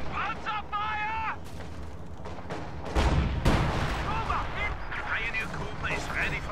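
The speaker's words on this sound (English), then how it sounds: "Taking panzer fire!" Panzer tank cannon fire in a wartime strategy video game: several heavy booms and blasts, the biggest around the middle, amid battle noise and game voice callouts.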